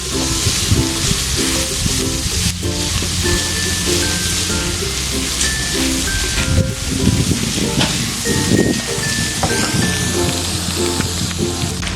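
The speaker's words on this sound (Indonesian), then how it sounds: "Kita tumis-tumis beserta bawang-bawangannya." Softened anchovies are stir-fried with shallots and garlic in hot oil, giving a loud, continuous sizzle with stirring scrapes close up.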